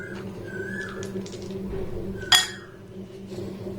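Coloured candies drop into bowls, making a few light glassy clinks with one sharper chime near the end over a quiet kitchen hum.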